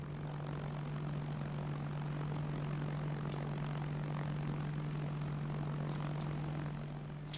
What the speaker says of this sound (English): So yeah, I'm trying to get used to flying this plane.